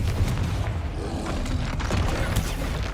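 A Confringo explosive spell blasts in Hogwarts Legacy, giving a loud, booming rumble with scattered crackling impacts that hold steady for a few seconds.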